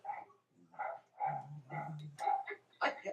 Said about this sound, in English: I'm sorry, I can only hear dogs.